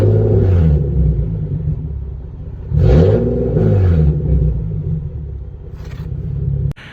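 A Nissan Z engine idles with a low rumble, then revs sharply a couple of times, close and loud, before settling back and cutting off.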